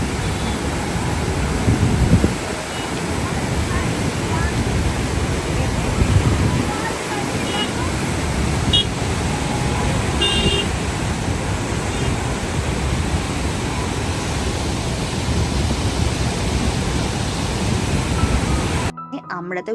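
Water flowing at Maithon Dam, a loud, continuous broadband rush of moving water with wind buffeting the microphone, steady throughout and cutting off at the end.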